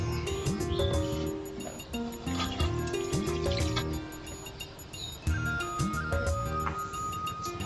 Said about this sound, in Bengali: আমি একটু হাতটা ধুয়ে নিই।